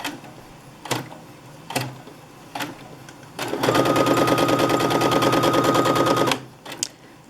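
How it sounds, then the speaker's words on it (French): A sewing machine stitches back and forth a few stitches as a lockstitch, heard as a few short separate bursts and then a steady, loud, rapid mechanical whir running for about three seconds before it stops. "Je recule de 3 points également. Et puis je repars en marche avant pour faire ma couture."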